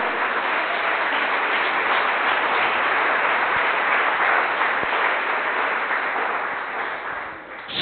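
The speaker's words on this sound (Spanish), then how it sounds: "déle un aplauso al Señor" A church congregation gives a long, dense round of applause for the Lord, loud and steady before tapering slightly at the end.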